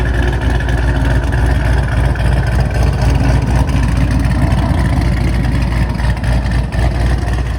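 A 2005–2009 Ford Mustang GT with a 4.6-liter three-valve V8 and freshly installed cams idles up to temperature, a loud, close, steady lumpy rumble with an uneven pulsing beat and no voices.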